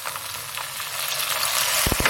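Steady, close sizzling as chopped green chillies and tomatoes go into browned onions frying in a pan, a bright crackling hiss throughout with a few sharper pops near the end.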